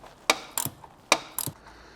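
A ratchet wrench with a 10mm deep socket works a ball joint nut on a BMW E39 530i Touring, giving two quick pairs of sharp clicks, each click trailed by a softer ratcheting rasp, close up and alone.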